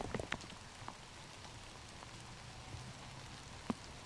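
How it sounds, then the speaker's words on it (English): Rain falls steadily on an outdoor disc golf course, a soft, even hiss with a few sharper drops tapping nearby. "Look at the rain, even more so."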